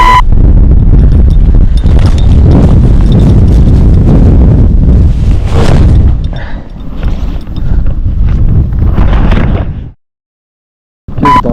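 Strong winter wind at an outdoor fishing spot buffets the microphone in heavy, roaring gusts for about ten seconds, then cuts to near silence before a brief final burst.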